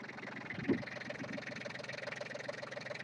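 A tractor engine idles steadily at mid distance, a continuous rumbling drone with slight rhythmic pulsing and no clear changes in pace.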